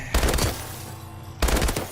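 HBRa3 rifle in Call of Duty Advanced Warfare firing two short rapid bursts on a firing range, loud and punchy with a brief gap between them.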